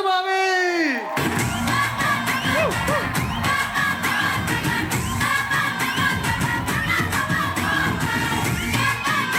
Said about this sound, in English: I want everyone to make some noise for Office Mama and Hasu Mami!